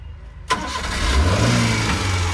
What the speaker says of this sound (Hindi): अब मैं जो है गाड़ी आपको स्टार्ट करके दिखाता हूँ।